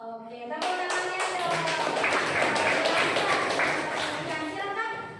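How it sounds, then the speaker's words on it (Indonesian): Audience clapping in a school gathering starts abruptly and holds as steady, dense applause for several seconds, fairly close, with a few voices faintly mixed in before it fades slightly toward the end. "Oke, tepuk tangannya."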